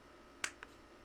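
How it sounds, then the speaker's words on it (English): Hands clap in a room in a sparse, uneven rhythm: three sharp, quiet slaps, with a longer gap before the last one. "the sound of the city is quickly drowned out by the clapping of a cloaked fellow"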